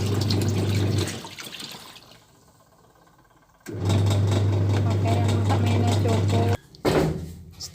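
A Sharp twin-tub washing machine runs its rinse cycle, with a loud steady motor hum and water churning that cut out briefly in the middle, then resume before stopping near the end.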